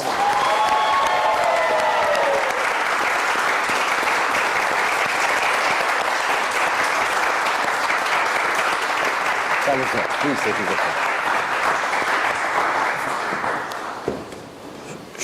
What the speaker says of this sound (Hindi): मैं आप सबकी बहुत सारी तालियों में दावत देता हूं शोएब सदल साहब को, प्लीज।